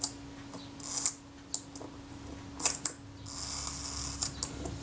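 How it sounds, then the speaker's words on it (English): A Retina I type 010 camera shutter's retard gear train running, giving faint mechanical whirring with bursts of fine ticking and ratcheting clicks, close up and quiet, with a low steady hum underneath. "the retard gear train seems to run smoothly too"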